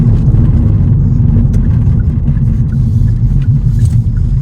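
Kia Proceed GT with 204 hp accelerating hard through its gears, a loud, steady low engine rumble filling the whole stretch with no talk over it.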